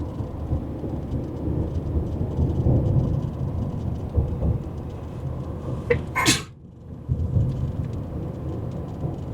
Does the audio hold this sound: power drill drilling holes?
no